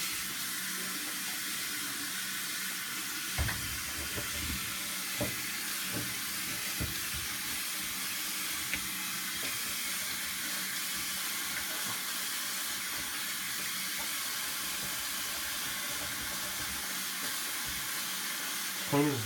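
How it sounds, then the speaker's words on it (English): Tap water runs steadily over an old, mouldy paint palette during rinsing, giving a continuous close hiss with occasional splashes and knocks. Faint talk is heard underneath. "Rinsing the sides in case any mold is in there."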